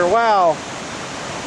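Mountain stream water rushing steadily along the Sawtooth Trail in Bitterroot National Forest, a broad continuous wash heard after a brief exclaiming voice at the start.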